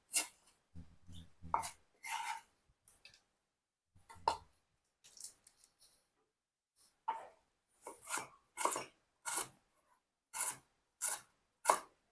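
A knife chops prawns for tom yum on a cutting board in quiet, crisp strokes, first irregular, then falling into a steady rhythm of single cuts.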